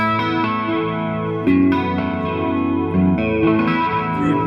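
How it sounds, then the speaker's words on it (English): Electric guitar playing sustained chords through a light chorus effect, the tone shimmering slightly as new strums land every second or so. "And now I have it set up for like a subtle sort of chorus."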